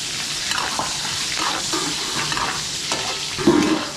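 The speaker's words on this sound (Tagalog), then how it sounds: "gigisa lang natin yung bawang sibuyas natin hanggang sa ang kulay brown" Garlic and onion sautéing in a pan as they brown, a steady close sizzle with scraping stir strokes throughout and a louder burst of frying near the end.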